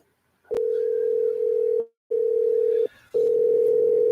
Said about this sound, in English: That's how you can tell I'm making a phone call because it's ringing.